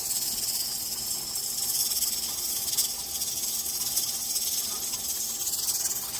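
A pressure canner processing steak, with steam hissing steadily and loudly from the jiggling weight. The bright, continuous hiss carries on throughout with no talking.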